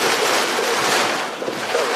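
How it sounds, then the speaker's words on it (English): Strong hurricane wind from Hurricane Ian, gusting south at 60 to 70 miles an hour, roars loud and constant as a broad rushing howl buffeting the microphone. "We're getting plowed by the wind."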